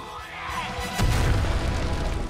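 An explosion during a raid on an imperial army base in the video game Final Fantasy XV lands as a sudden boom about a second in, followed by a rumbling, crackling tail over the game's background sound.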